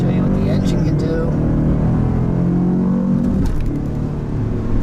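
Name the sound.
2018 Cadillac Escalade ESV engine accelerating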